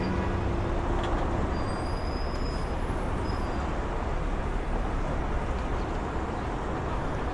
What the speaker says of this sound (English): Here we have kind of bus traffic going on over here.